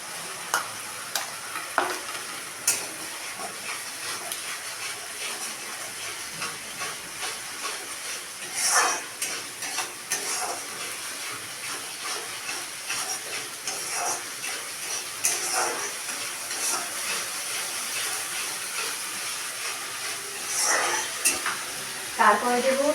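Onion paste and garlic paste frying in a pan for a Bengali green jackfruit curry, hissing and sizzling steadily up close while a spoon stirs and scrapes in uneven strokes, no voices.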